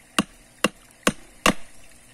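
Hammer driving nails into a wooden board: four sharp, evenly spaced strikes, close and loud, with quiet gaps between them and no talking.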